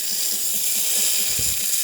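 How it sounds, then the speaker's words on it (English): Steam from a serviced Jura Z6 espresso machine fitted with a new ceramic valve, a continuous, fairly loud airy hiss with a faint low gurgle near the end. "All that steam coming out through there is a nice steam pressure."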